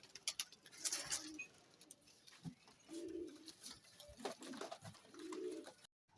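Pigeons, flying breed sold by a fancier, coo in several low, soft bursts, with wing flutters and scuffling nearby and a brief sharp chirp; no talk.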